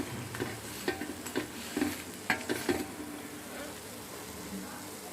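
Layered parotta cooks on a hot home griddle with a steady close sizzle, broken by bursts of scraping and clattering as it is turned and pressed.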